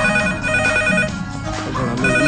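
A phone's ringtone plays on and on in a Punjabi comedy film, a loud, close, repeating electronic tune sounding alone without talk.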